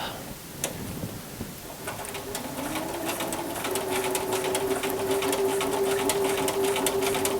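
A sewing machine runs steadily as it stitches a duffle bag, with a fast rhythmic whir and needle ticking that builds after a couple of seconds of quieter handling and stays close and continuous to the end.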